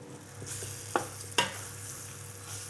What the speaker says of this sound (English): That's ready now for frying off in the big pan